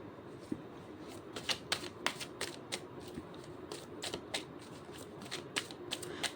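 Tarot cards are shuffled by hand in a run of crisp riffling bursts, some quick clusters of flicks and some single snaps, close and fairly loud over a quiet background hiss.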